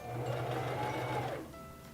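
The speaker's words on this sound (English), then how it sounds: "And then you will stitch that for about 6 to 8 stitches." Singer Fashion Mate 3333 sewing machine stitching a buttonhole runs in a steady, fast motor whir with a rapid needle rhythm for over a second, then winds down to a quieter hum.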